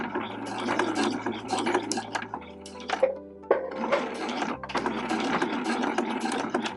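A sewing machine stitches a fabric zipper pull, running in bursts of rapid mechanical clatter with short pauses and pitch shifts as it sews straight down and back-stitches at the end, close and fairly quiet.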